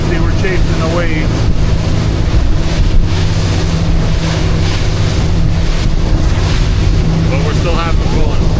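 A powerboat runs in a following sea near Charleston Harbor, with a steady engine hum under continuous water rush, hull slap and strong wind buffeting on the microphone, all loud and close.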